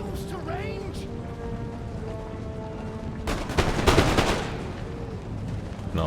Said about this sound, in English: We line these guys up perfectly for a good volley. Come on, men, fire away.